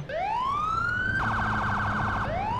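A police car siren from the LCPDFR patrol mod for a video game, loud and close, rising in a wail, switching to a rapid yelp pattern, then dropping back into a wail.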